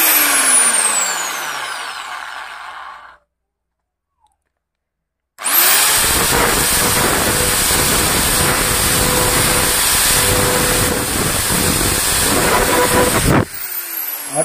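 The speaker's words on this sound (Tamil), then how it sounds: "சென்டர் பொசிஷன் வச்சு ட்ரில் போட்டுக்கிறோம்" An electric drill bores holes for a homemade DC-motor water pump, starting with a whirring run that spins down into silence. After the pause a long, loud, steady high-pitched grind follows and then cuts off abruptly.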